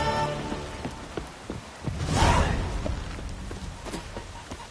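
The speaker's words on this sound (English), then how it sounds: "Raining again." Steady rain in the video game The Witcher 3: Wild Hunt pours on surfaces with scattered drops and a brief swelling gust midway, loud and continuous, no talking.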